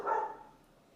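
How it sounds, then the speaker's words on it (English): A single short bark from a pet dog in a home kitchen, fairly close and loud at first, then fading into quiet room tone with no talk. "That's my dog."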